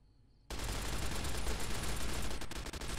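Video game gunfire in Fallout New Vegas, likely a light machine gun, begins abruptly after a short silence and becomes a loud, continuous barrage of rapid shots that keeps going to the end, with no voices.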